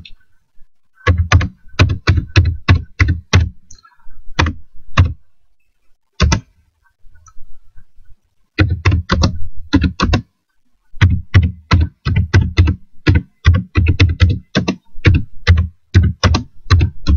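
Fast keystrokes on a computer keyboard as a message is typed, coming in close, crisp bursts of rapid taps broken by short pauses, with no talking.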